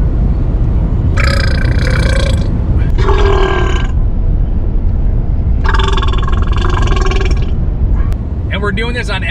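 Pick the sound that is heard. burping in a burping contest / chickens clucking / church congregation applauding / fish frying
burping in a burping contest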